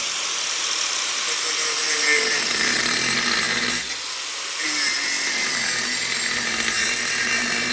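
An angle grinder cuts away exhaust flanges on a Harley-Davidson Panhead motorcycle, a loud continuous high-pitched whine that dips briefly midway and then resumes steadily.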